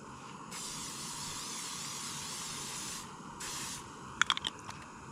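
Bursts of aerosol spray from a small can of canola oil, a steady hiss lasting a few seconds, pausing, then a second shorter burst, followed by a few faint clicks, outdoors at a Yosemite camp.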